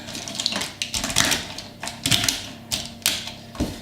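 A knife chops leftover Easter egg chocolate into small pieces on a board, giving a run of sharp, close taps at an uneven rhythm with no speech.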